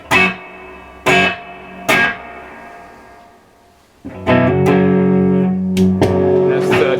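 Crunchy electric guitar through a VOX AC30 amplifier at one-third of a watt with reverb, strummed chords ringing out three times and then a sustained riff with bright overtones, close and fairly loud.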